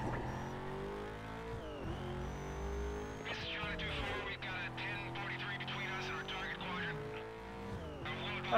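Race car engine revving and shifting in the video game Need for Speed Most Wanted, with tire squeals as it skids, rising and falling engine pitch throughout, and a person talking over it.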